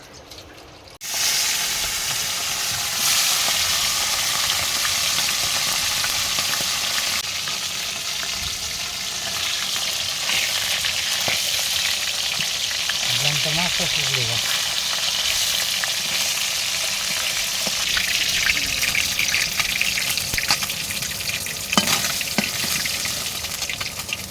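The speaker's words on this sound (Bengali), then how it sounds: "তো দেখো বাবা ওখানে মাছ ভাজছে" Fish fries in a pan with a loud, steady sizzle that lasts the whole time. Faint scraping and stirring noises come through now and then.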